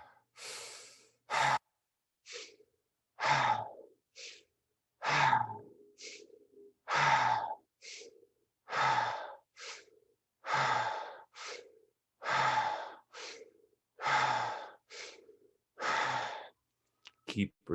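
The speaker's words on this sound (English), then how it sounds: "Keep breathing on your own" Guided deep breathing, with slow, even cycles of audible inhales and exhales repeating about every two seconds, close and clear against silence.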